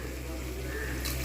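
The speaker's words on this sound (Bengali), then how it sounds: "এবার আমি এতে দিয়ে দেবো জল।" Water pours in a short steady stream into a pan of fish curry masala, a brief close gushing wash that brightens near the end, with low kitchen hum underneath.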